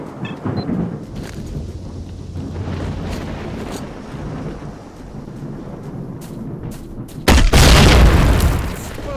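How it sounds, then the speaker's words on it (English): A grenade launcher round explodes in the S.T.A.L.K.E.R. Shadow of Chernobyl video game: a loud, deep booming blast that swells suddenly near the end over a background of rumbling in-game ambience. "Grenade launcher time? I feel like it's grenade launcher time."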